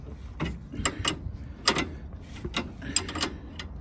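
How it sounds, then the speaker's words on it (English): Bolts being tightened on the anti-roll bar of a 2008–2015 Toyota Avensis 2.0 D4D, with a series of close, irregular ratcheting clicks and metallic clunks over a low background hum. "So we tighten these up, tighten them up real tight"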